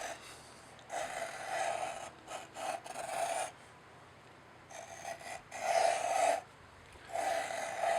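An Isky 100-GRM O-ring tool cuts a groove into a 4G63 engine block, giving repeated close scraping bursts of about a second each, separated by short quiet pauses.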